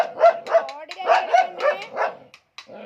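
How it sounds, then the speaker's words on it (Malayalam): A dog barks repeatedly at close range in a quick series of sharp, pitched barks, with a brief pause near the end before another bark. "അതാണ് പട്ടി."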